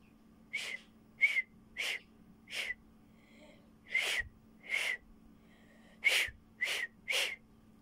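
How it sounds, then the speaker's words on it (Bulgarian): Someone who says he can hardly whistle produces about ten short, breathy, airy whistles at a steady rhythm, close and fairly loud, with quiet gaps between them. "Как свирнах?"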